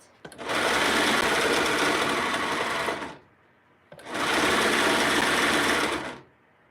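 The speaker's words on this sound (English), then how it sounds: "we're going to sew the underside of the sleeve on the seam" A sewing machine runs along the underside seam of a knit shirt sleeve in two long, steady, close bursts of fast stitching, separated by a short pause.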